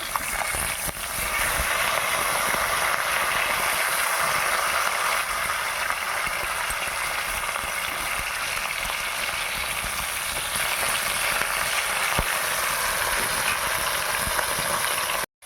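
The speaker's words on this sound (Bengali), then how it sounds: "একদিক ভাজা হয়ে গেছে এবার উল্টে দিয়ে আর একদিক ভেজে নেব" Silver carp pieces turned over and frying on the second side in mustard oil in a wok, a constant dense sizzle that holds steady throughout and cuts off abruptly at the end.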